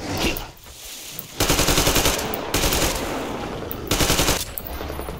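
Loud bursts of rapid automatic gunfire in several sustained volleys from the video game Metro Exodus, separated by brief lulls, up close with no talking.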